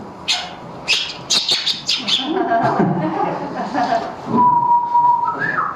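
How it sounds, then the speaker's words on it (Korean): Bird calls ring out in a lively sequence: sharp whistles, chirps and squawky notes, fairly close, ending on a clear sustained whistle. "뭐 이런 새소리들이 모두 사라져버린 거죠."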